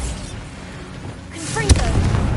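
A booming blast from the Bombarda spell in a Harry Potter video game, a low rumble rising to one sharp loud bang near the end, with a voice speaking just before it.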